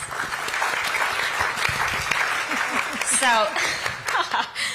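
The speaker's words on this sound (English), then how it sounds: "Let's give them a quick round of applause." An audience at a climate festival town hall claps in steady applause, with scattered chuckles and voices mixed in over the clapping.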